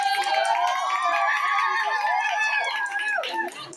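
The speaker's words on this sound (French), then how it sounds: "Applaudissez Mardoché" Audience cheering and shouting for a singer at a Christmas singing contest audition at the Villagio Hotel, a lively crowd roar with whoops and high voices that stays loud and tapers off near the end.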